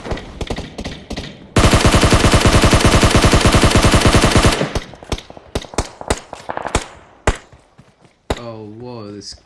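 AKM assault rifle firing in the PUBG Mobile video game: a loud sustained automatic burst of about three seconds, then scattered single shots and short bursts, with a voice briefly near the end.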